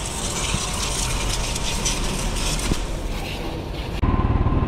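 Water sprays steadily over a muddy motorbike being washed, a loud continuous gushing hiss up close that changes abruptly near the end to a rougher pulsing flow.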